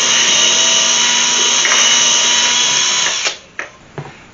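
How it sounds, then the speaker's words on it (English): A power drill whines steadily and loud, boring through plastic for a DIY sideshow display box, then cuts out at about three seconds, followed by a few brief bursts. "you want to go ahead and drill it"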